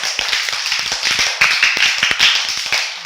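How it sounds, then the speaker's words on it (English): Children clapping in a classroom, a loud, close, uneven patter of many small hands lasting a few seconds, with no talking. "Clap பண்ணிக்கோங்க பார்க்கலாம்."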